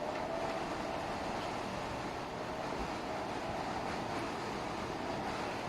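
An Asahi TF-004 tower fan, freshly repaired, whirs at high speed with a steady, even broadband rush and a faint tonal hum, constant throughout with no talking.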